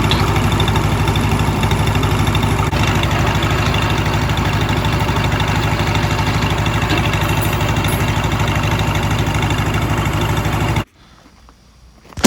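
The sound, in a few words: Lincoln SA 200 welder engine running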